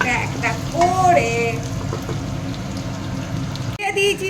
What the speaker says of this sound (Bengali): একটু ভাজা ভাজা হলে সবজিগুলো দেবো একটা একটা করে।